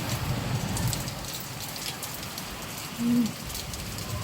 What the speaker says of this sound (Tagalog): biglang buhos yung ulan na ganito